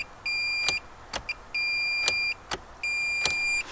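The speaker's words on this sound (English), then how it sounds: "I've got the multimeter pressed, it's hooked up so it beeps." A multimeter on continuity mode beeps while its probes touch the start-signal terminals of a 1980s JDM remote starter: three steady, high-pitched tones of about half a second each, evenly spaced, close and clear with a faint background.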